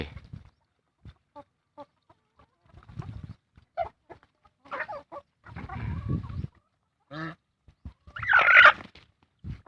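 Chickens in a backyard coop cluck in short, scattered bursts, close and fairly loud, ending with a louder squawking outburst.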